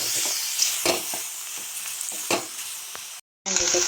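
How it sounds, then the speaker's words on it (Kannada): Boiled macaroni stirred in a hot pan with salt, steady sizzling frying hiss with a few scraping strokes of the spoon, close and continuous, cut briefly by a short silence near the end. "ಇದಕ್ಕೆ ನಾವು ಬಾಯ್ಲ್ ಮಾಡಿರೋ ಮ್ಯಾಕ್ರೋನಿಸ್ನ ಹಾಕ್ಕೊಳ್ಬೇಕು, ಚೆನ್ನಾಗಿ ಮಿಕ್ಸ್ ಮಾಡಬೇಕು"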